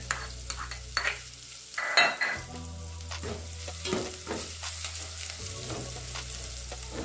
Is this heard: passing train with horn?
no